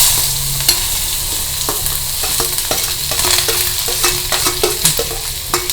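Onion, curry leaves, ginger and green chili are stir-fried in a pan, with a steady loud sizzle and repeated sharp spatula scrapes and taps at an uneven rhythm, close up.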